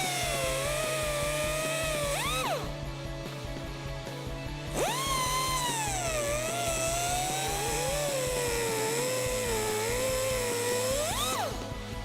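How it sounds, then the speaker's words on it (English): Truck leveling kit studs on a Silverado or Sierra are cut down where the threads begin, a loud power-tool whine that rises and falls in pitch as the blade bites and frees up, steady and close throughout. "we're going to cut down a little bit right where the threads start"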